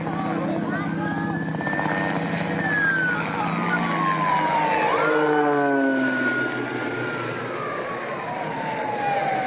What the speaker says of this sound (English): This plane and helicopter flying close together.